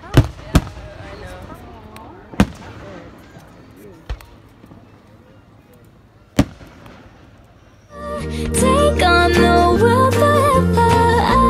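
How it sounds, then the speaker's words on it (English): Several sharp firework bangs pop at irregular intervals over a low background murmur, a few loud and close, then dense music swells in and drowns everything for the last few seconds. "There's more fireworks over there."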